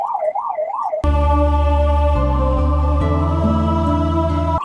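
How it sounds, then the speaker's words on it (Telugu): An ambulance siren wails in traffic in Karimnagar, its rising and falling tone quickly giving way to a loud, steady horn blaring close by for several seconds. "కారు సైరన్ వస్తుంది తెలిసి కూడా టర్నల్స్ మీద వెళ్తున్నాడు కారు"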